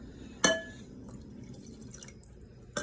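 Liquid is poured into a laboratory beaker, with a sharp glassy clink at the start, a faint trickle and small drips, and a second clink near the end, all quiet and close.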